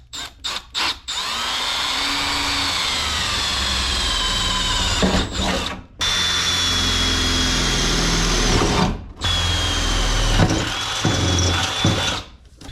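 A power drill bores through a template into the interior of a Squarebody truck, a loud steady whine running several seconds at a time, broken by short stops and restarts.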